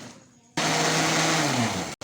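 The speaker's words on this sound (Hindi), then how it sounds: "जस्ट हम इसको ब्लेंडर में ब्लेंड करेंगे।" A kitchen blender starts abruptly and whirs loudly and steadily, blending masala spices into yogurt for a chicken tawa dish, its motor pitch sagging slightly under load before cutting off briefly at the end.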